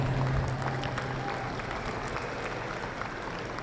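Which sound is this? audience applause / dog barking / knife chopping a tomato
audience applause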